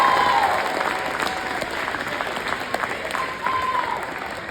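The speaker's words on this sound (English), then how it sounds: "Give him a round of applause." Applause from an audience at a motivational talk, a broad wash of clapping with crowd murmur and a brief whoop or whistle rising above it, steady and fairly loud.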